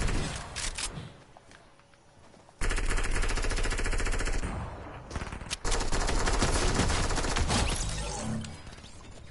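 Sustained automatic gunfire in Fortnite, loud and dense with rapid shots layered over game sounds and a quieter gap before the firing resumes.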